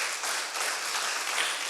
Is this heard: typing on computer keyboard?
no